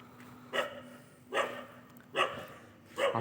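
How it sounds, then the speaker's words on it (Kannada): Dogs bark at night outside a hostel, four evenly spaced barks at moderate distance over a low steady background hum. "ನಾಯಿಗಳು ಕೂಡ ಬಗ್ತಿದ್ದಾರೆ ನೋಡಿ"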